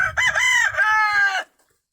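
A rooster crows loudly and close in a chicken tractor breeding pen shared with hens, one long drawn-out call lasting over a second before falling silent.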